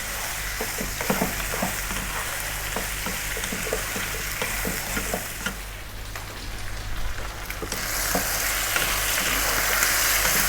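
Cumin chicken frying over medium heat in a pan, a steady close sizzle with small crackles and occasional stirring scrapes, growing a little brighter and louder toward the end.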